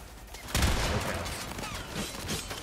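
Video game gunfire erupts in a loud burst of shots, followed by a couple of scattered quieter shots and rumbling game noise.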